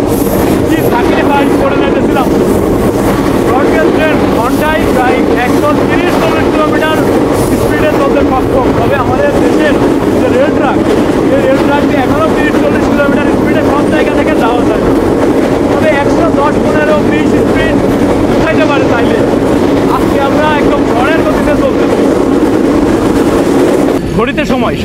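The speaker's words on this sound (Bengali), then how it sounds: "ব্রডগেজ ট্রেন ঘন্টায় প্রায় 130 কিলোমিটার" The Rupsha Express, a broad gauge train running at around 130 km/h, gives a loud, steady roar with rushing wind buffeting close by, and faint voices are mixed into the din.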